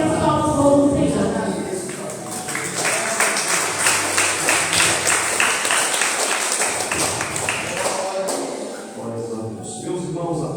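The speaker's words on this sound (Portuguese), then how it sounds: "que as palmas vão do Senhor" A church congregation claps together during a worship service, loud and sustained for several seconds, then easing off, with voices heard over the applause.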